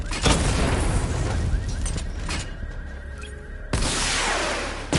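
Missile barrage explosions in the Batman Arkham Knight video game: a loud booming burst at the start fades into a rumbling tail, then a second sharp blast hits near the end, with no talking.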